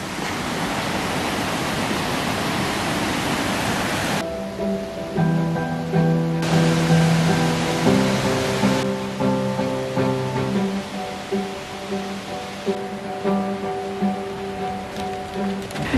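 Waterfall on the Ring of Kerry in Ireland, a loud, steady roar of rushing water heard nearby throughout. Musical tones sound over it for much of the time.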